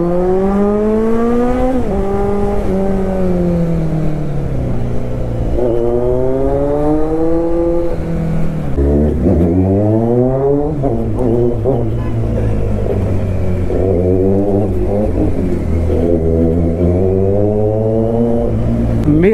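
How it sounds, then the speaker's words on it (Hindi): A motorcycle idling after a cold start, revved lightly several times: up-close engine drone rising and falling in pitch with repeated gentle throttle blips, continuous throughout. "कोल्ड स्टार्ट हो चुकी है, हल्का सा रेव करके दिखाता हूँ मैं आप लोगों को"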